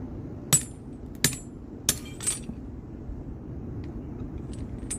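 Metal struck with a hammer in a rural workshop fix, four sharp separate clanks spread over the first few seconds, each fairly loud and close, then a low steady rumble alone.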